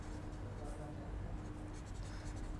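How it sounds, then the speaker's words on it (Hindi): A teacher writes an answer on a classroom board, giving soft continuous scratching strokes that are quiet and close, with faint room noise and some breathy murmuring. "तो हम इस प्रश्न का उत्तर इस तरह लिखेंगे।"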